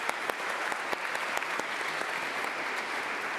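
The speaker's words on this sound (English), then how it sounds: "that deserves a round of applause" Steady applause fills a large hall at a cooperative congress, with many hands clapping in a dense, even wash and a few sharper individual claps standing out near the front.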